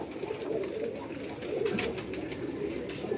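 Pigeons coo steadily on a Karachi rooftop, a soft continuous murmur of overlapping low calls from several birds, moderately close, with no voices over them.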